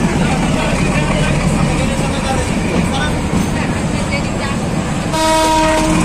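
A Narayanganj commuter train pulls away from Shyampur Boraitola station with a loud, continuous rolling rumble, and a sustained horn blast sounds near the end.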